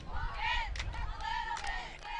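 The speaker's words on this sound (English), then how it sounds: "We can hear the U20 girls team getting involved, cheering on their U20 boys in this final game of the tour" Young U20 girls' team voices cheer and shout from the sidelines of an ultimate frisbee tour final, a mix of high calls and whoops at moderate distance under a faint windy background.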